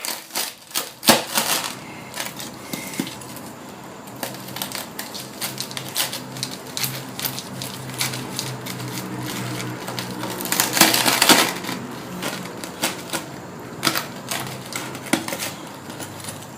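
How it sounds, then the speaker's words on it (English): Crackling roast pork belly skin is cut close up with a knife, giving dense, irregular brittle cracks and crunches over a long stretch, louder around the middle, with no talking. "Listen to that glass-like crack."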